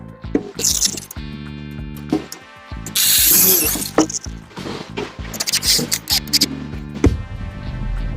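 Screws are driven into the corners of an aluminum louver door frame, with loud ratcheting and clicking from a power driver in repeated bursts. Metallic rattles and handling noises fall between the bursts.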